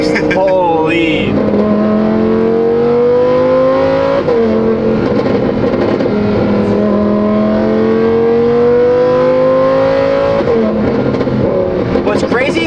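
A Lamborghini Huracan fitted with an F1-style exhaust revs loud and close, its engine note climbing and falling in repeated sweeps with a snarling, raspy edge. Voices may be mixed in.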